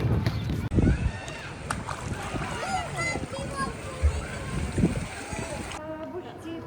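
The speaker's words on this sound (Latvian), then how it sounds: "Bērnu baseins ar šļūcamajiem." Children's pool with water slides at a hotel in Hurghada, Egypt: splashing and sloshing water mixed with children's shouts and chatter, lively and continuous, with an adult voice talking over it.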